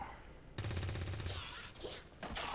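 Rapid automatic gunfire from a turn-based tactics video game crackles in a dense burst, then the shooting continues more raggedly with a final short burst near the end.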